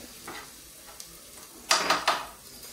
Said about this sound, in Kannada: ಇದನ್ನು ಸ್ವಲ್ಪ ಫ್ರೈ ಮಾಡ್ಕೋಬೇಕು.